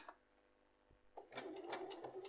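A domestic sewing machine stitching a concealed zip runs up faintly after a quiet lead-in and whirs steadily through the second half.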